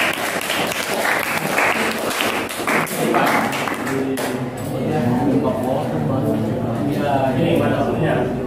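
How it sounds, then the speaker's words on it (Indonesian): Classmates clap for a student group in a classroom, brisk applause for about four seconds that gives way to chatter and overlapping voices. "Tepuk tangan untuk kelompok 4."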